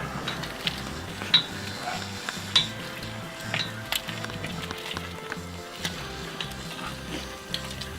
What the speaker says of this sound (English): Give her a good stir.